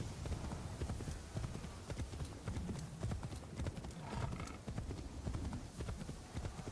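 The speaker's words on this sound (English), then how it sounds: "As I sit here riding my demon horse." Horse hooves clip-clop steadily at a trotting rhythm in a video game as a demon horse is ridden, with dense, fairly loud thuds. There is no talk over the hoofbeats.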